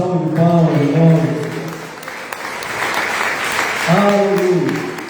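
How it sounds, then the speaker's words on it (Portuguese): A church congregation breaks into a burst of clapping, a dense wash of hands that swells between stretches of a voice speaking or singing at the start and end. "Não merece uma salva de palmas, irmãos?"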